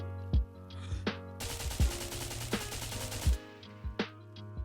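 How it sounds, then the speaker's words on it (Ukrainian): A 9x39mm rifle fired on full automatic at a 20-metre range in the video game DayZ. Scattered single shots surround one sustained burst of rapid gunfire lasting about two seconds, all close and sharp. "Стріляємо з даної гвинтівки на 20 метрів в автоматичному режимі."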